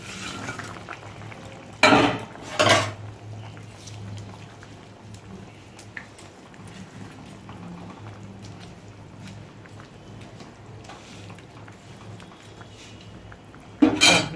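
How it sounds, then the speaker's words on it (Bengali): Fish curry gravy simmers in a pan with a soft, continuous bubbling, interrupted by a few sharp clanks of a utensil on metal near the start and end. "ঝোলটা কেমন ফুটছে দেখো, টকবক করে"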